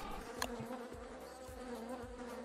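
Steady, close insect buzzing from a swarm of bees in Don't Starve Together, a continuous droning hum with a few louder passes, with no voices.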